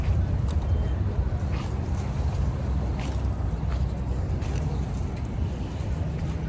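A boat travels across open water, with a steady low rumble of engine and hull wash and gusting wind buffeting the microphone throughout, fairly loud and continuous with no clear speech.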